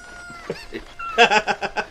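Chickens cluck in Ocarina of Time in a quick run of short, bright calls, starting sparse and faint before a louder burst of several clucks.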